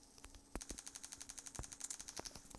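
Rapid automatic gunfire in the mobile shooter Block Strike, a steady burst of about twenty evenly spaced shots with a few heavier thuds mixed in, moderately loud.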